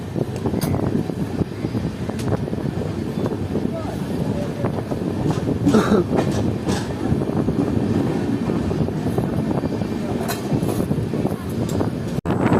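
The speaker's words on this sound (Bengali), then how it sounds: "আমাদের ট্রেন ক্রস করছে খানাকার।" The 13011 Howrah–Malda Town Intercity Express runs on rails near Khana junction, heading toward Guskara station: a loud, steady rolling rumble with rattling and wind buffeting that continues the whole time, with a brief sharp knock near the end.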